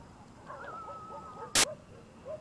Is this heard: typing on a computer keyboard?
no